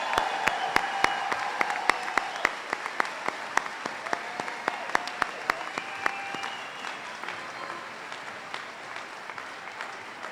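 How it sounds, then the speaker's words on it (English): A crowd at a graduation ceremony applauds steadily with dense clapping for about ten seconds, sharp individual claps standing out over the sustained rush. "a nice round of applause for the graduating class of 2019"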